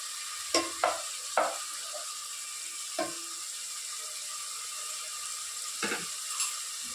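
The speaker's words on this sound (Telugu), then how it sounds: "ఫ్రై అయ్యే వరకు వేయించుకోవాలి." Masala with tomato fries for a fish curry, a faint, steady sizzle under a handful of sharp stirring scrapes and knocks against the pan, spaced irregularly.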